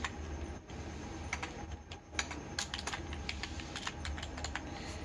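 Steady typing on a computer keyboard while text is entered in Photoshop, with quick, uneven clusters of sharp key clicks running nonstop over a low background hum.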